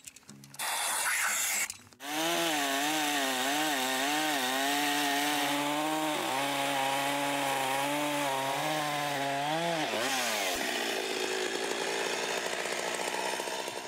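Chainsaw cutting through a felled timber log, running loud and close with a steady high engine whine that dips and wavers under load, then revs out and rattles as the cut finishes.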